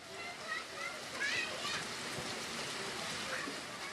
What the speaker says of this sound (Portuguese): Começou a chover forte aqui